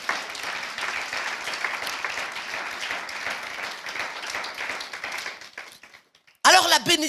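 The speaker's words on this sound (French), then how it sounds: "On va applaudir bien fort Jésus." A church congregation applauds Jesus, a broad, sustained clapping that fades out near the end before a voice abruptly resumes speaking.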